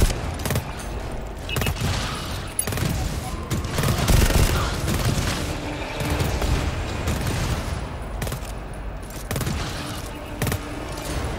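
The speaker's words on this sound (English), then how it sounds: "Don't move, I'm gonna shoot between your legs." Dense gunfire from a co-op shooter game, sustained volleys and sharp shots crackling continuously for several seconds at high loudness, with a few louder bursts and players talking intermittently.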